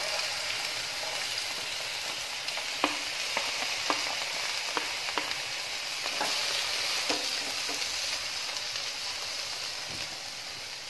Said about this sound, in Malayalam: ഓയിൽ ഒന്ന് ചൂടായിട്ട് വരുമ്പോൾ അതിലോട്ടേക്ക് രണ്ട് മീഡിയം സൈസുള്ള സവാള ചെറുതായിട്ട് അരിഞ്ഞത്